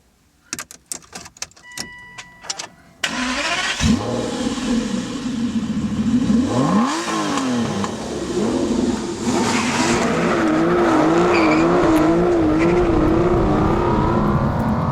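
A few sharp clicks, then a 2012 Aston Martin V12 Vantage engine bursts to life and revs repeatedly, rising and falling, before settling into a loud steady idle.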